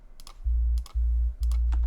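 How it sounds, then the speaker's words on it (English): A deep synth sub bass plays alone in three long, sustained, very low notes separated by short breaks, with faint clicks above. "And then the sub bass sounds like this."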